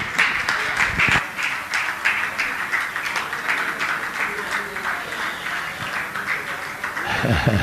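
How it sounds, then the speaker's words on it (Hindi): A crowd at a Jain religious question-and-answer gathering with Praman Sagar Ji Maharaj claps steadily for Vijay's birthday honour. The dense, even applause runs throughout with no break, and a voice comes in faintly near the end. "जोरदार ताली बजा दीजिए।"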